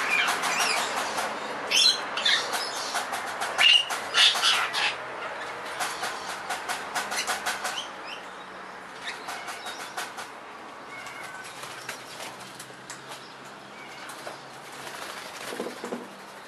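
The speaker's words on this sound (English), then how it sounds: "Lorikeets flying by." Lorikeets calling with bursts of sharp, high chattering screeches that come in a dense flurry early on, then thin out to scattered calls as the birds fly past outdoors, with no talking.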